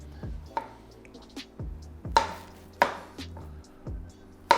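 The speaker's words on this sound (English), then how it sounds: "We're going to julienne some squash and zucchini" Squash and zucchini are julienned on a razor-sharp mandolin slicer, giving a series of irregular, crisp slicing strokes with sharp thuds, close and clear with no talk.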